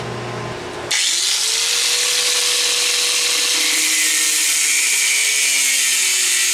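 A power tool cuts through bolts with a loud, sustained whine and grinding that starts abruptly after a brief lower hum and runs steadily for several seconds, its pitch drifting slightly.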